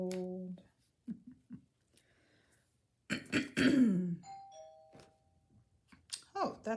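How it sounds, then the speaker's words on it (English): Doorbell chiming in a quiet home craft room, a couple of clear tones ringing after a throat clearing and cough, with soft sounds around them. "Oh, that's my doorbell."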